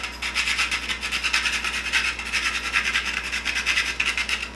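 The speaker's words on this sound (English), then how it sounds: "You have this little grater, and sometimes you have to tap it. But we'll put nutmeg all over the top." A whole nutmeg is rubbed over a small handheld grater, making a quick, rhythmic rasping scrape that repeats steadily and close up, with no talking.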